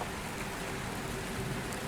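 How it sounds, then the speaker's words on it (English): Rain speckling the roof of a creaking house, an even dense patter with fine drop detail, steady and continuous with no voices. "the rain speckling the roof"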